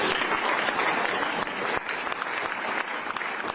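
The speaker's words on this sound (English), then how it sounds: "We must give them a round of applause." A summit audience gives a round of applause, a continuous wash of many hands clapping in a large hall at moderate loudness, with no talk over it.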